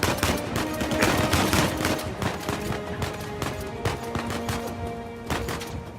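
Machine gun fire from an Uncharted 4 shootout crackles in rapid, dense bursts of loud shots that overlap with scattered impacts, all running on without pause.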